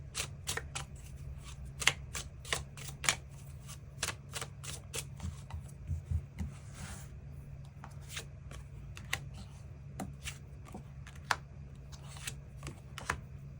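Tarot cards being shuffled and drawn, giving a steady run of crisp riffling snaps and flicks at close range over a low background hum, with no talking.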